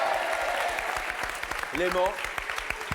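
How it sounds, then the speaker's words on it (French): A studio audience on a French TV game show claps in quick, regular beats, steady and fairly close, while someone talks over the applause. "on applaudit quand même"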